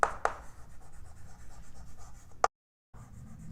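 Pen writing out a bank reconciliation statement on a board or page, soft scratchy strokes with a few sharp taps and a brief pause, close and quiet with no talking.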